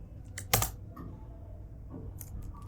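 Keystrokes on a Mac computer keyboard, a few distinct clicks and one louder tap standing out against a low background hum, with no voices.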